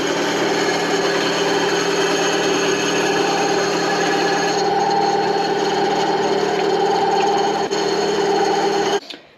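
A new WEN 9-inch benchtop band saw motor runs at a steady, loud whine and hum for about nine seconds, close by with no talk, then cuts off abruptly at the end.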